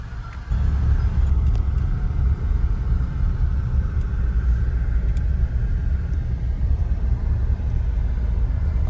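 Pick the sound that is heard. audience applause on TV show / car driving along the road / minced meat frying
car driving along the road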